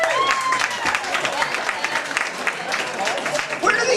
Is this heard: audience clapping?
yes